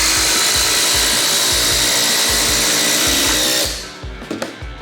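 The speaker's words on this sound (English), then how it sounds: "is now a classic brushless impact driver on the 20-volt max battery system" A Kobalt XTR brushless 20-volt impact driver running hard, a loud, dense rattling hammer of rapid impacts over a whining motor for about four seconds, then cutting off into a few brief clunks.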